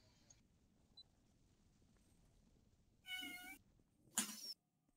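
A cat gives two short meows close by, the second sharper and louder, against a faint quiet room background.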